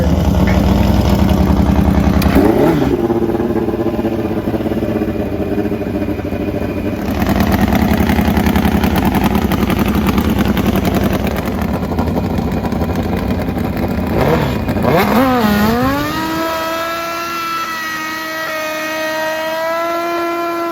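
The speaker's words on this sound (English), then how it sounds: "Side-by-side burnouts, that's what it's all about. Turbo Suzuki Nitro Harley, take your pick." A turbocharged Suzuki Hayabusa and a nitro-fueled Harley-Davidson doing side-by-side burnouts, a loud, sustained engine roar that holds steady, then rises and falls in revving sweeps before settling into a lower drone.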